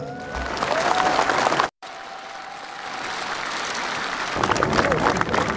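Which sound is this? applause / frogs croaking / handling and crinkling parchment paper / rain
applause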